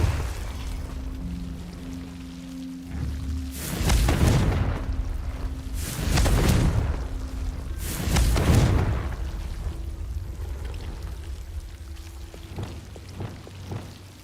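Three heavy blasting-spell explosions in Witch Simulator, each a broad booming burst with a rumbling tail, spaced about two seconds apart over a low droning game background.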